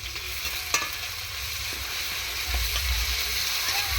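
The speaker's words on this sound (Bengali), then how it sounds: "রসুন এবং পেঁয়াজ কাঁচা লঙ্কাগুলোকে সবগুলোকে একসঙ্গে দিয়ে এভাবে নাড়তে হবে" Garlic, onion and green chilli are stirred together as they fry in a pan over a clay stove, giving a steady sizzle with occasional scraping and clinking of the spoon throughout.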